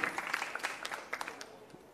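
Audience applause for young girl performers at a stage play event, a brief round of scattered hand clapping, moderately loud and fading toward the end.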